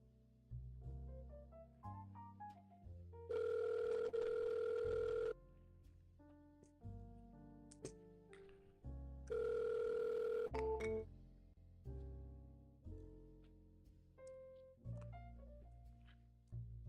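Telephone call sounds: a sequence of tones and pulses with two long, loud steady dial or ringback tones, each lasting a couple of seconds, in otherwise quiet surroundings.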